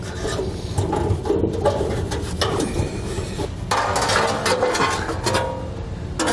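Tin snips chew through sheet metal in a run of crunching, rasping cuts, loud and close, with metallic scraping between strokes, during an underbed fifth-wheel trailer hitch installation on a 2018 Chevrolet.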